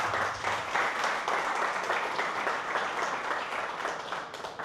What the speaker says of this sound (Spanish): Dale un aplauso al Señor por su palabra.